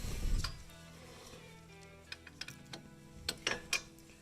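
A ratchet works on the hub bearing bolts of a Chevy Tahoe, with a low rumble at first, then scattered clicks and a few quick bursts of ratcheting, close and fairly quiet.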